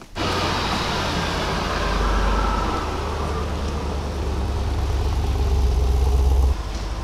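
An Audi RS6 being driven out with its engine running: a steady, close mid-pitched engine drone with a deep low rumble that swells slightly as it pulls away, then cuts off near the end.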